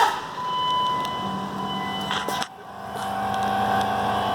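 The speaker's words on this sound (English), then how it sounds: "So it's priming now." A steady electric whine from an AirDog 150 lift pump priming the fuel system on a Dodge Ram 2500/3500 Cummins, a thin tone running under broader mechanical hum, with a brief clunk about midway.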